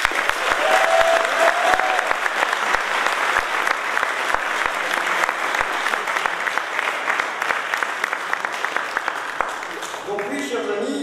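Sustained audience applause at a French National Front campaign rally in Gardanne, greeting the Bouches-du-Rhône federation head, dense steady clapping from a crowd filling the room, tapering slightly at the very end.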